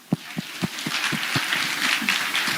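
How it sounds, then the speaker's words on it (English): A handful of sharp, separate claps ring out in a health insurance event hall, then grow into a denser patter of group applause that carries on steadily. "Let's clap for them."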